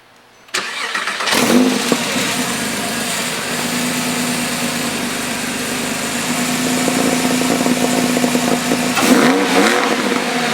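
A 2006 Porsche 911 Carrera 4 Cabriolet's 3.6-liter flat-six engine cranks and catches, then settles into a loud, steady idle with a slight rise near the end.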